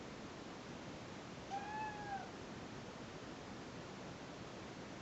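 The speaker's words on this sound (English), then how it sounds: "Cat wants to get in the video." A single short meow from a house cat, fairly faint, rising and falling against a steady background hiss, with no talking around it.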